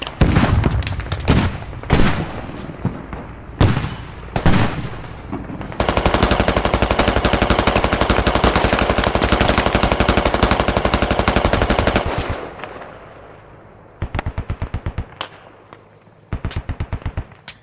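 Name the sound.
gunfire in the video game Squad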